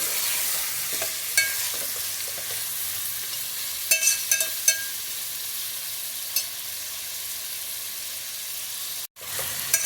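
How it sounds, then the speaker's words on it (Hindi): Bone-in beef fries in a pot for achari gosht, a constant sizzling hiss with occasional metallic clinks and scrapes from stirring, close by, with a brief dropout near the end. "अब हमने अपने बीफ को तब तक फ्राई करना है जब तक इसका कलर चेंज ना हो जाए।"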